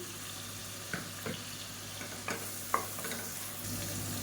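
Onion, garlic and green chilies fry in a pan for a South Indian side dish, giving a steady close sizzle broken by several sharp stirring scrapes and clinks, with no talking.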